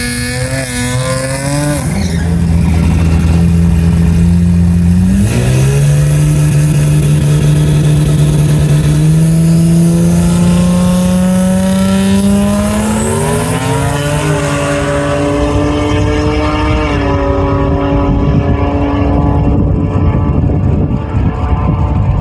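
An American turbocharged inline-six drag car launching from the line at the strip, a loud sustained engine roar that climbs steadily in pitch through the gears, close and continuous with no talk.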